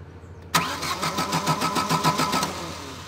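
A Chevrolet Aveo engine cranks with a steady, rhythmic starter churn for about two seconds, close and loud, but never catches and then cuts off.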